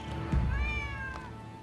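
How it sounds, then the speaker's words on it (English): A stray cat gives one drawn-out meow in the Rise of the Ronin video game, clear and fairly close over a low background rumble. "Who'd have thought a stray cat would wander in?"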